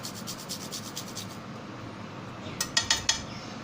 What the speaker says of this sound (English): Taking a piece of jaifal, and I will just kaddukas or grind little bit just for flavoring.